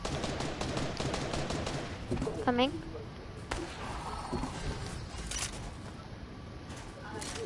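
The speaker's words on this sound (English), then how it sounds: "Were you shooting at someone or something?" Gunfire in a PlayStation video game: scattered rapid shots at moderate volume alongside game effects, with a short chirping sweep and people talking over the top.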